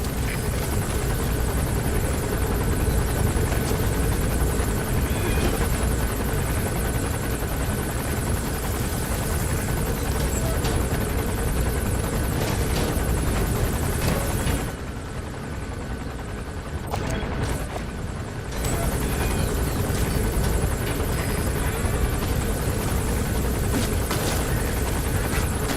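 A helicopter landing in Metal Gear Solid V, a steady loud rotor drone and engine roar filling the whole stretch, briefly dipping and thinning midway before returning at full strength, with no talk.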